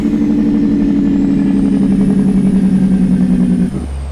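A Peterbilt 389 truck's engine brake on its high setting roars loudly with a deep, steady rumble for several seconds, then cuts off abruptly to a lower idle, in American Truck Simulator.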